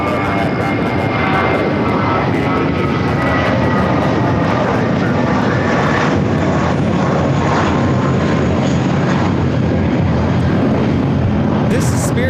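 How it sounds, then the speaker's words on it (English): An American Airlines jet takes off from runway 25 right at LAX, its engines a loud, continuous broadband roar throughout, with voices talking over it. "So first take off, 25 right"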